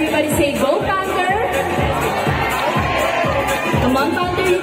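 A crowd at a cat exhibition chants and cheers for Panther the cat in loud, rhythmic repeated shouts, dense voices filling the space throughout.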